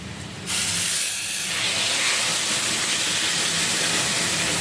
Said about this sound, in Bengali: এখন এই যে গরম জলটা দিয়ে দিই